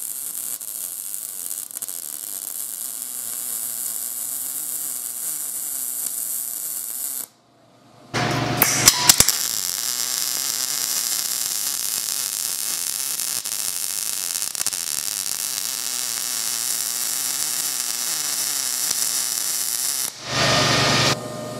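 An HTP MIG welder runs on metal just under 60 thousandths thick, giving a steady loud crackling hiss that cuts out briefly, restarts with a few pops, and continues until a short pause near the end.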